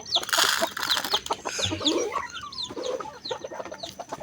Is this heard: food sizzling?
no